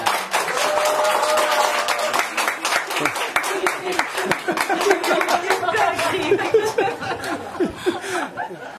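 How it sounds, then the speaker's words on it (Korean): Audience at the end of a lecture on radioactive contamination in food breaks into sustained applause, dense steady clapping mixed with chuckles and light chatter throughout. "우리 고생하신 유준 교수님께 박수 치면서 마치도록 하겠습니다"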